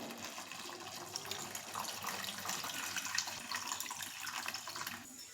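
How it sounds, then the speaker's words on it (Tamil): A steady stream of tamarind water pouring and splashing into a pot of fish curry, continuous and fairly close, fading slightly at the end. "இப்போ புளி தண்ணி ஊற்றிக்கலாங்க."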